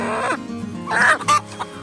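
A backyard hen, one kept in a flock with an egg-eating problem, clucks close to the microphone in a few short, loud, throaty bursts over faint background noise.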